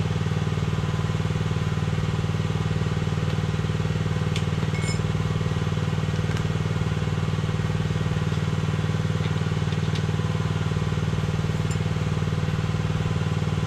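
A small engine runs at a steady idle, loud and close, with an even, unbroken drone throughout and a few faint clinks on top.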